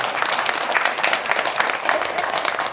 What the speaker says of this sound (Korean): 가만히 앉아서 고개만 끄덕끄덕 하지 말고 좀 박수 쳐봐라.